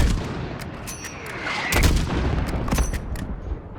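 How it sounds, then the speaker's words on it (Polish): Mortar blasts and gunfire in the video game Modern Warfare 2019, with repeated sharp shots and booming impacts over a dense rumbling battle background, heard alone with no talk. "Jest jeszcze jeden moździerz, Alex!"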